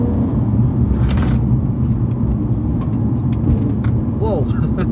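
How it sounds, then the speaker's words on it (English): A BMW M3 E90 engine surges under a quick throttle prod, a loud, deep in-cabin rumble that swells briefly, with voices heard over it. "that was a prod of the throttle and the car literally just kicked me in the back"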